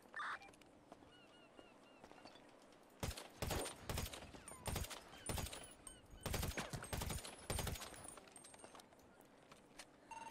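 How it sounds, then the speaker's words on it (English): Gunfire in a GTA roleplay shootout between a biker gang and police at Humane Labs, with loud, close bursts of rapid shots crackling repeatedly after a quieter opening, separated by short pauses. "Yeah, they're shooting."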